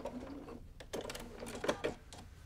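Sewing machine back stitching quilt binding, a few short bursts of rapid mechanical stitching close by, separated by brief pauses.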